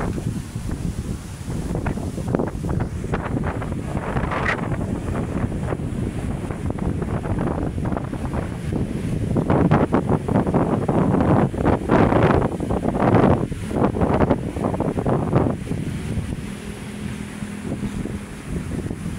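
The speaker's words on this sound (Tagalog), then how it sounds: "sobrang lakas ng alon, inanod na." Strong waves on Manila Bay surge in a continuous broadband wash, with heavy wind buffeting the microphone throughout and swells of louder surf midway and near the end.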